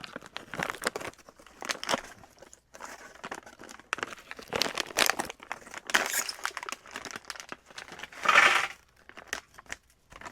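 Plastic packaging from a CCAR beef stew 24-hour ration is crinkled and strained in repeated close bursts of crackling and tearing, with a louder rip near the end and no talking.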